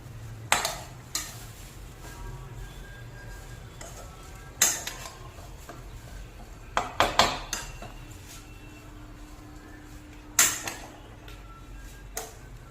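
Bread fry being stirred in a pan at home, with scattered sharp clinks and scrapes of a utensil against the pan over a low steady background hum.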